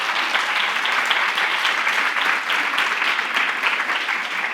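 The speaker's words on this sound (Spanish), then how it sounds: "Le damos un fuerte aplauso, por favor." An audience at a panel on gender-violence narratives breaks into steady applause, a dense, even wash of many hands clapping that continues unbroken for a few seconds.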